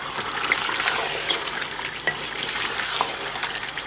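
Raw chicken tossed into hot masala in a karahi and stirred, giving a steady close sizzle of frying with a few brief clinks of the spoon against the pan.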